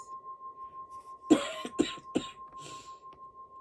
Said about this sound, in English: Now I apologize for my voice and the cough.